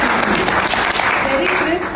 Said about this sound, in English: can we put a big round of applause for